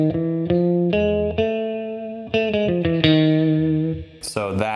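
An electric guitar run through effects such as distortion, chorus and reverb plays a sequence of sustained notes from the Gypsy scale, each note ringing into the next, with a brighter, higher burst near the end.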